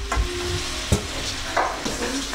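Food sizzles in a frying pan as it is stirred, a steady frying hiss broken by a few scraping knocks of the utensil against the pan.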